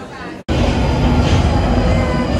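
A train pulls into a busy London station with a loud, continuous roar and rumble that fills the space after a brief cut, and station noise blends in around it.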